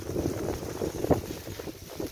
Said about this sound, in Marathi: इथं आपला पाईपलाईन थोडा फुटलेला म्हणून पाणी चिडत आहे